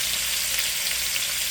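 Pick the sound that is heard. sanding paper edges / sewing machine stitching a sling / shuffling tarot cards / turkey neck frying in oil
turkey neck frying in oil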